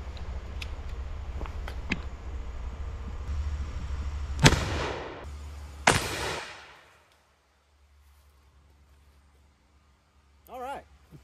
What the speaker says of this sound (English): I'm gonna shoot the right barrel first.